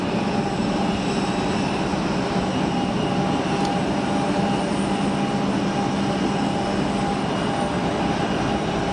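A Swiss airliner's engines spool up for its takeoff roll at Geneva Airport, a loud, steady roar with a sustained whine running through it and no voices.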